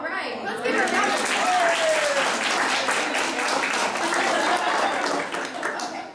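Audience at a weight-loss class breaking into a sustained round of applause, dense and steady clapping from a room full of people.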